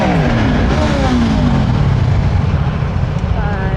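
Customer's 125cc four-stroke motorcycle in Naples, engine revving loud and close with rising and falling pitch sweeps, then settling into a rough steady running note.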